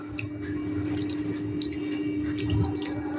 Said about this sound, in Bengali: এবারে আমি ছানাটাকে ভালো করে ধুয়ে নেব